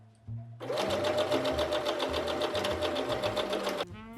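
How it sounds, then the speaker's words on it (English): A sewing machine stitches a center front fabric seam in a fast, steady mechanical whir with a regular pulsing rhythm, starting after a brief pause and stopping abruptly near the end. "Now you're going to place the matching front pattern pieces right sides facing and sew the center front seam."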